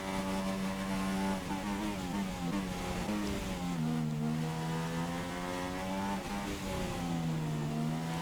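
A Formula One car in the F1 2016 racing game holds a steady, loud, continuous engine drone at full throttle through Abbey at the British Grand Prix, its pitch sliding slightly with no gear changes or voices.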